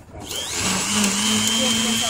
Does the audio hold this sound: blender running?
yes